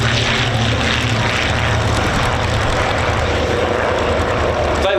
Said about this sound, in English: So have a listen to these engines as they run by now on the Twin Star.